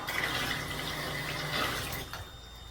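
Water runs steadily from a freshly repaired bathtub faucet, a close hiss with faint mechanical clicks, before the flow is shut off near the end and leaves a quiet tail.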